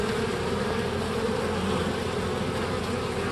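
Bees swarm and buzz densely around a hive fitted with a pollen trap held on with Gorilla Tape, a steady, close, unbroken hum filling the whole stretch with no talk.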